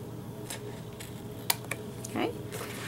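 Paper edges trimmed for a craft project, a few light clicking snips and slides of the cutter with one crisp tick in the middle, soft and close over a quiet room hum.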